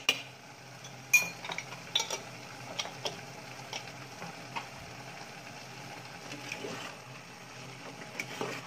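A metal utensil scrapes and clinks against a pan while stirring sugar into pancit bihon rice noodles, with scattered close taps over a faint sizzle.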